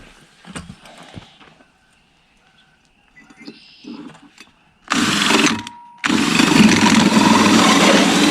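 Power drill boring holes in the rear of a Harley-Davidson bagger while custom tail lights are fitted outdoors in the rain, with loud sustained whirring bursts after scattered clicks and handling noises.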